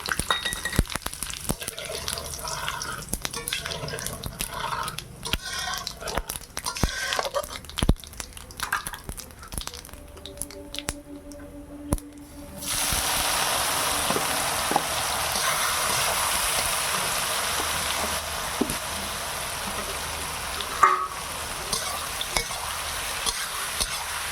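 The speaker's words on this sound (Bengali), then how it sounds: "জিরা, লঙ্কা, তেজপাতা দিয়ে দিলাম।" Cumin, dried chili and bay leaf sizzle in hot oil in a village kitchen. Irregular stirring clatter comes first, then a loud, steady frying hiss fills the second half.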